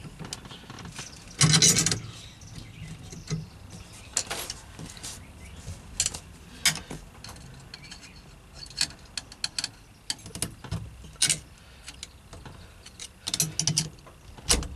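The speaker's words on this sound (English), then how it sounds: "Now I'm just going to tighten this compressor down until that groove shows up for the lock ring." A compressor tool is tightened down on a GM steering column lock plate with a series of close, irregular ratcheting clicks and mechanical rattles. There is one louder clatter early on, and no voice is heard.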